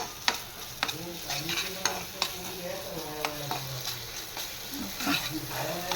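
Kashmiri chilli masala fries in oil in a pan for pav bhaji, giving a soft continuous sizzle broken by light, irregular clicks as a spoon stirs it.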